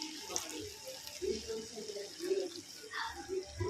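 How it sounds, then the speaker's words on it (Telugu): Water poured into a drumstick curry simmering in a pot, soft splashing and trickling up close, with a voice talking quietly over it. "కొంచెం వాటర్ వేద్దాం"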